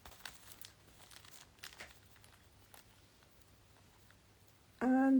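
Newly printed paper cards handled with soft rustling and crinkling for several seconds, quiet and close, ending with a sudden loud sustained tone.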